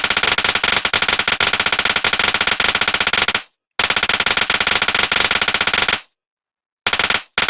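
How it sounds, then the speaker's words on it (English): Rapid automatic gunfire from a student-made zombie shooter video game, a loud, steady stream of shots in long bursts broken by brief silent gaps, with no talking. "this gun is obviously much stronger and automatic"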